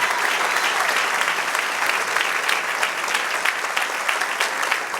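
Steady, full applause fills a church as the congregation claps together during a sermon, many hands at once, loud and even throughout with no voices standing out.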